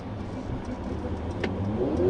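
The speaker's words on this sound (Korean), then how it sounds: "순간적으로 가속 페달을 깊게 밟아서 본선 진입을 했는데요" Mercedes-AMG GLC 4Matic pulling onto a highway from a Seoul riverside park road, a steady mid-pitched engine drone building slightly toward the end, heard from inside the cabin with road noise underneath.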